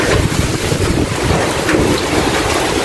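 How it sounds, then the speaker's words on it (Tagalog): Strong typhoon wind roars and buffets the microphone during a storm in the Philippines, a loud, continuous, turbulent rush with gusty low rumbles and no voices. "Sir, lumalakas na po yung hangin."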